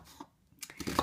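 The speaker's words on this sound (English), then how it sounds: "So we're chopping the onion." A knife chops an onion into very small pieces on a board, giving a few quiet, irregular cutting knocks close by, the last ones crisper and louder.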